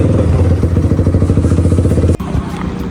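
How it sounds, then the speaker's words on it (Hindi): A Yamaha R15 motorcycle engine runs loud and close during a test ride after servicing at a Yamaha showroom, a fast steady pulsing throb that cuts off sharply near the end. "वो टेस्टिंग कर रहे हैं हमारी बाइक चला के"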